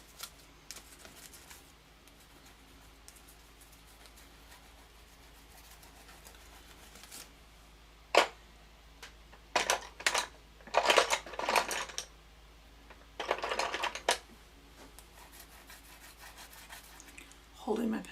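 Graphite pencil strokes sketching grasses in a sketchbook, held loosely: faint scratchy rubbing that turns into a few louder bursts of quick strokes in the second half.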